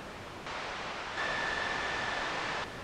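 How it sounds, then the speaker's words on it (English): Synthesized noise from the ELZ_1 play synth, shaped with overdrive into a river-like rush: a steady hiss swells in, thickens with a faint whistling tone, holds briefly, then cuts off. "Without the effect, it sounds like rain, but adding overdrive makes it more river-like."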